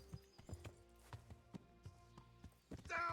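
Horse hooves clop at a steady walking pace in the medieval game Kingdom Come: Deliverance, a run of evenly spaced, close hoofbeats that ends in a louder burst of sound.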